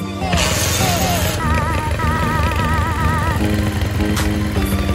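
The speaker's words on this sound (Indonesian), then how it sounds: "Oke, mesin halus yo." A Honda CB motorcycle engine runs steadily close by, with a continuous loud mechanical drone and tonal engine hum, plus a few sharp knocks partway through, with no voices.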